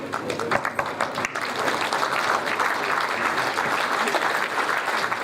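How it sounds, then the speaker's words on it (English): Audience members rise and clap for the vice chancellor at the inauguration of a national congress on canine practices. The applause is dense, steady and moderately loud, with a few sharper claps early on. "Everybody will please stand to their chairs and will give a deep applause to our Honorable Vice Chancellor."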